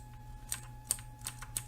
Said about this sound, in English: all you do is just use the arrow keys on your computer